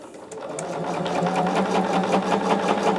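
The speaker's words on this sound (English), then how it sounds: "Now I just sew all the way off the edge of it" A sewing machine runs steadily and close by, stitching a quarter-inch seam around the outer edge of quilt squares, with a continuous whirring drone and no pauses.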